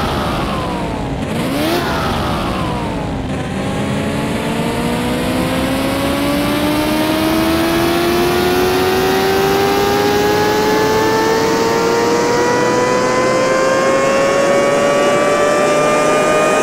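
A restored Pagani Zonda V12 engine, salvaged from a scrapyard, revs up loud and close, its pitch climbing steadily and continuously after a couple of brief blips at the start.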